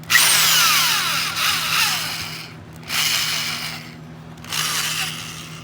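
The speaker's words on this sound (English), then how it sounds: "a little drill" A small drill boring a hole in brass whirs in bursts, three runs separated by brief pauses, close and fairly loud with a steady low hum underneath.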